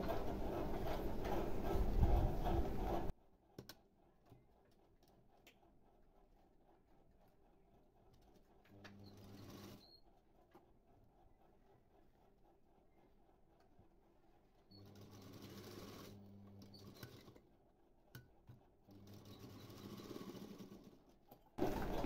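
A sewing machine runs in several bursts while stitching the collar of an umbrella dress, the first run loud and steady, later stretches softer with pauses of quiet between them.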